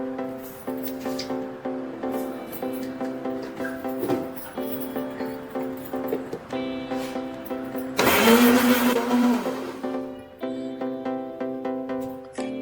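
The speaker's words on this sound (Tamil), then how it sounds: "கட் பண்ண முலாம்பழ பீசஸ ஒரு மிக்ஸி ஜார்ல சேர்த்துட்டு அது கூடவே 3 ஸ்பூன் அளவுக்கு சர்க்கரையும் சேர்த்து நல்லா அரைச்சு எடுத்துக்கலாம்." A mixer grinder jar blends cut muskmelon pieces with about three spoons of sugar, a steady whirring motor hum with a louder, harsher burst of grinding midway, heard alone and close.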